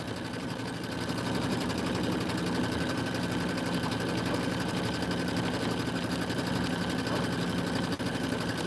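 A long-arm embroidery machine stitches an autumn quilt border, a steady fast mechanical hum and rapid needle chatter running evenly and close throughout.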